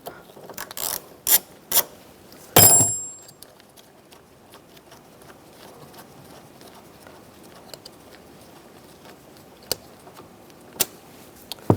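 A ratchet works the last bolt of a 2011-2015 Chevrolet Cruze driver's side mirror, giving a few loud close clicking bursts in the first three seconds. A quiet stretch follows with only a couple of isolated clicks later.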